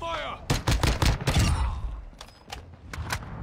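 Gunfire in an online multiplayer shooter game: a rapid burst of close, loud shots followed by sparser, fainter single shots, with a voice heard briefly under the shooting.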